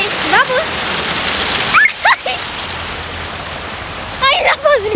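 Heavy rain pours steadily as a loud, even wash of noise in a game scene, with short chirpy voice sounds breaking through several times.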